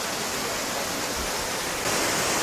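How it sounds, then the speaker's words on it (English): Purakaunui Falls, a waterfall in the Catlins, New Zealand, makes a dense, unbroken roar of cascading water that grows slightly louder toward the end. "This is Purakaunui Falls, the best waterfall in the Catlins."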